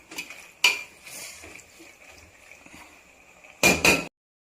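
Pasta in red sauce stirred in a metal pan with a spoon, Jain Italian style: scraping and clinking of the utensil against the pan, with a few louder knocks at the start and near the end.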